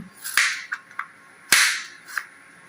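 A knife chopping carrots and cabbage on a cutting board for a curry, sharp close knocks in an uneven rhythm, two louder chops among several lighter taps, with no talking.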